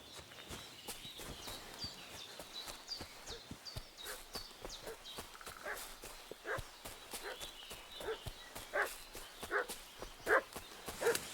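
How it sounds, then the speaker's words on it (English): A dog in Kingdom Come Deliverance II barks in repeated sharp bursts that grow louder and more frequent toward the end, mixed with hoof-like clopping and footsteps nearby, with no speech. "What's that dog making such a fuss about?"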